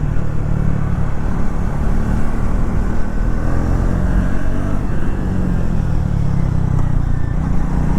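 A Triumph Thruxton 400 motorcycle riding through city streets, its engine a loud, steady low rumble that stays close and constant throughout, with wind and road noise mixed in.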